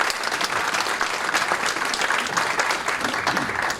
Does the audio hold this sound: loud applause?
yes